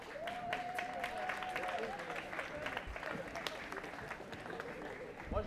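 Audience applause at an outdoor climate-action event after a litter cleanup, scattered clapping of moderate loudness with a person talking over it.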